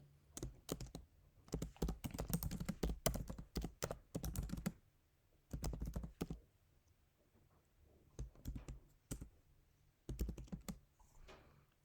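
Keyboard typing while writing Python code for a beginner exercise with print and input, heard as bursts of rapid close key clicks separated by short pauses, no voices.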